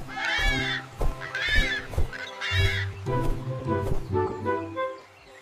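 A bird gives three harsh, cawing calls in quick succession, each rising and falling in pitch, heard close over a steady musical backdrop.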